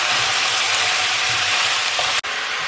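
Curry powder fries in a hot pan while goat curry is being cooked, a steady close sizzle that fills the whole stretch before cutting off abruptly near the end and resuming more thinly.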